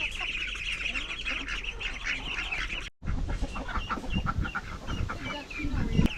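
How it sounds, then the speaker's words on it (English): Ducks and chickens in a vegetable garden honk and cluck repeatedly and close by, with a brief cut midway, then more quacking and scuffling noises while people talk quietly. "Ducks are coming."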